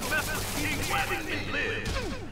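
Gunfire in the Marvel's Spider-Man video game, a dense rattle of shots and crashes under a busy mix of game sounds and voices.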